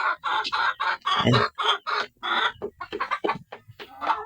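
Black Australorp chickens cluck and chatter close by in quick, irregular bursts, a rooster-like call rising among them, with someone speaking briefly over the birds.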